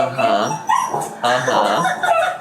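Freshly groomed dogs bark and yip excitedly in quick, loud, close bursts throughout, with some whimpering mixed in.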